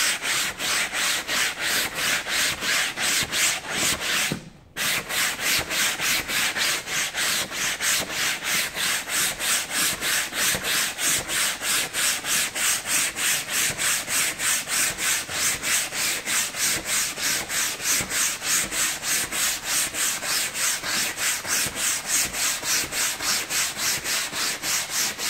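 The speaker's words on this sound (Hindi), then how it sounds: "तो उसको ब्रश से स्क्रब करने का, एक लाइन से दबा के घसने का।" A brush scrubs a fabric sofa at home in firm, rhythmic back-and-forth strokes, close and steady, with one brief pause early on.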